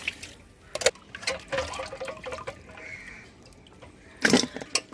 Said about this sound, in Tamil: இப்போ தண்ணி ஊற்றி கழுவ போகிறோம்.